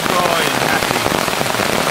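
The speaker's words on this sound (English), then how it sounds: "lie down and listen to the rain." Steady rain drums on a tent while camping in woodland, a dense, close patter that fills the space continuously with no pauses.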